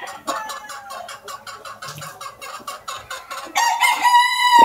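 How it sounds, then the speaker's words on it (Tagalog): Gamefowl, including super brown reds, cluck in a rapid series of repeated calls, and then a rooster crows loudly up close at the end. "Ito pa yung mga ibang manok na BBM game pa mga ito"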